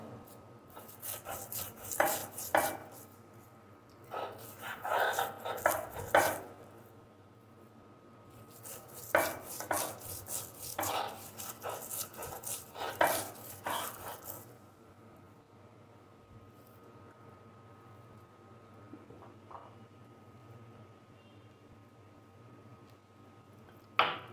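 Onion and garlic are mashed by hand for a taki fish bharta, with bursts of rhythmic grinding and rubbing strokes separated by quiet pauses.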